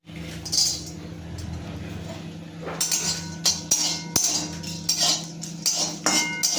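Garam masala and cumin seeds being dry-roasted in a dry wok, with a metal spatula clinking and scraping against the pan in uneven bursts, loud and close, with no talking.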